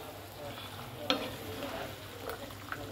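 Flat beans and cut potatoes fry in a pan with well-cooked spice paste for a cauliflower curry, a quiet steady sizzle broken by a few soft stirring clatters, close up.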